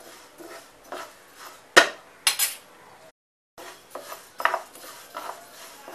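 A spatula stirs dry coriander seeds, cumin seeds and lentils roasting in a metal pan, giving close, irregular scrapes and metallic clinks with one brief silent pause.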